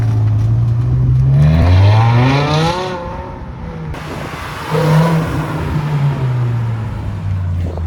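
A BMW M6 with a V10 engine launches hard, its engine note climbing steeply through successive revs and gear changes, loud and close, then settling into a steady high-pitched drone as it pulls away.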